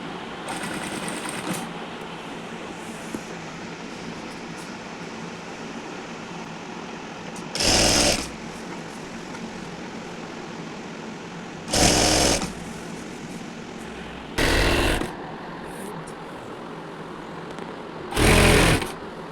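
A sewing machine runs a side seam on an open-front nighty, in four loud bursts of rapid stitching separated by pauses with quiet room noise.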